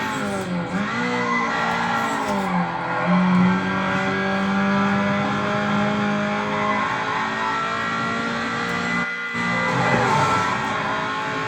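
Race car engine from the 2003 video game NFS Underground, revving and shifting through gears with rising and falling pitch, loud and continuous, with brief tire squeals and skids and one short dropout near the end.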